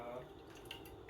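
Milk poured into a roux in a cooking pan, a faint, steady liquid trickle and drip without a break.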